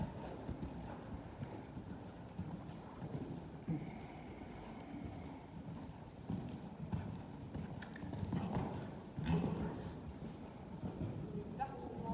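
Horse hooves clip-clopping at a gallop during a riding lesson approach, steady rhythmic thuds at moderate distance with some wind noise, under a voice talking in French.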